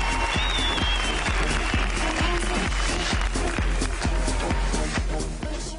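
A studio audience at a Turkish TV talent show claps loudly in rhythm, steady and close throughout, with some cheering mixed in and no talking.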